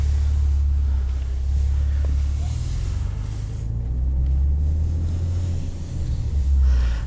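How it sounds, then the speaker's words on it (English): A 2014 Maserati Ghibli being driven in sport mode, its engine holding a loud, steady low rumble that swells and eases slightly over several seconds, with no talking. "this is one of the best sounding cars out there. It sounds absolutely insane."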